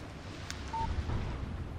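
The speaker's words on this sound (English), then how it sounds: "Text message from Barry." A short single-tone text message alert from a phone in the Alan Wake 2 video game, one brief beep standing out over a low, rumbling ambient background.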